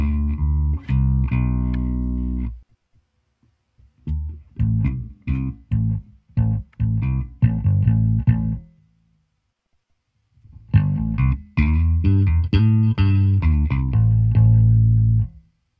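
An electric guitar through an M-VAVE Tank B amp model plays distorted, effect-laden phrases in loud bursts separated by short silences, close and unaccompanied by voices.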